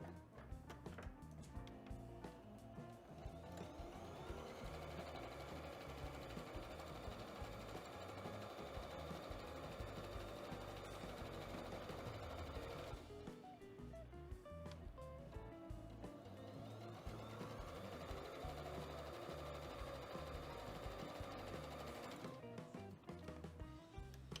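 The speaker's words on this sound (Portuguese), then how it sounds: "costura para unir essas 2 tiras aqui" Sewing machine stitching two strips of patchwork fabric together, a fast continuous mechanical whirring rattle close by that pauses briefly midway before running on steadily again.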